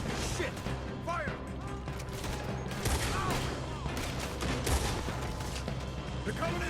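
Dense gunfire from a shootout in Red Dead Redemption 2, rapid overlapping shots and cracks forming a loud continuous barrage, with voices calling out over the fighting.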